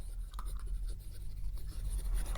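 Pen writing on paper, a few quiet scratchy strokes close by in short bursts, with no speech.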